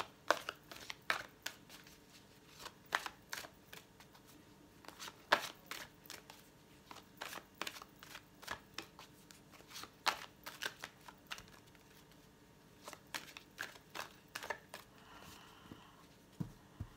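A deck of tarot cards being shuffled, a rapid run of crisp riffling flicks and snaps that come in irregular bursts for the whole stretch, close and fairly quiet with no talking.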